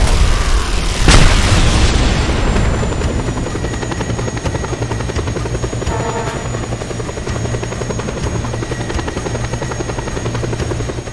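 A Just Cause 2 video game helicopter, with loud continuous rotor thrum and engine whine throughout, a sharp boom near the start, and no talk.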